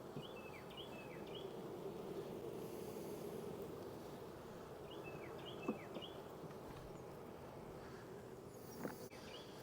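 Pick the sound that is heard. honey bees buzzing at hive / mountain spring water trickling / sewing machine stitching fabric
honey bees buzzing at hive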